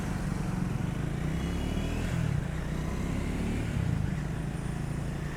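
Triumph Scram 400 motorcycle on a test ride, a steady low engine drone blended with wind rush, continuous and fairly loud throughout with no talking.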